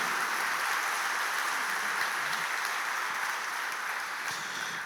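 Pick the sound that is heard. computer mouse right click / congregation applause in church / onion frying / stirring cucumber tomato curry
congregation applause in church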